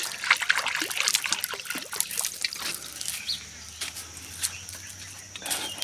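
Water trickles and splashes into a trough set out for birds, irregular dribbling and spattering with some close clatter, while faint bird sounds and flutters come and go in the background.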